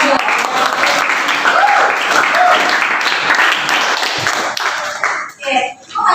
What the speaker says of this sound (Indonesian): Tepuk tangan buat kita semua dong.